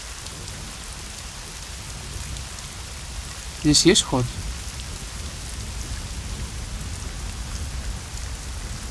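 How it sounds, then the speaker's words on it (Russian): Steady rain patters throughout, with a brief burst of someone speaking near the middle, from the video game Hitman: Blood Money. "Дождик идёт."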